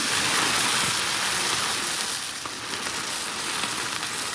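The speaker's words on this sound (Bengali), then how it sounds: "এবার মুড়িটা ভাজা করব" Puffed rice fries in hot oil with green chili, giving a dense, loud, continuous hiss and crackle close by that eases slightly partway through.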